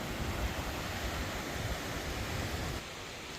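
Ocean waves of an incoming high tide wash over a sandbar in Lagonoy, Bicol, a steady broad rushing surf with wind noise, fairly faint and with no talking.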